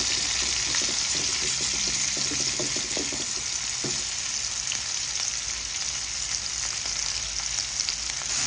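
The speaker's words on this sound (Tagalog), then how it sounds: "Ginigisa ko na po ang ating bawang, sibuyas at ang ating luya." Garlic, onion and ginger sautéing in the leftover oil from frying fish, a steady loud hiss of frying with a few light stirring clicks, close up and alone.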